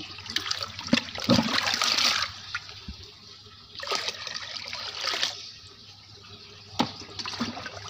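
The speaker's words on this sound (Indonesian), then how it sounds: "Untuk menurunkan lagi, kita tambahin air baku lagi." Raw water is poured into a hydroponic strawberry nutrient solution in several splashing, trickling bursts, close and moderately loud, with quieter pauses between them.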